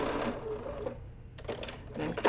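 A sewing machine stitching a seam on a foundation paper-pieced quilt block, a close, rapid mechanical whir that slows and restarts in short runs.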